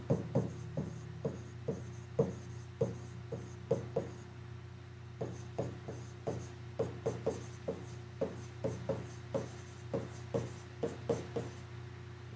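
Pen or pencil writing chemical element symbols by hand on paper, with close, quiet scratchy strokes in short repeated bursts over a steady low background hum.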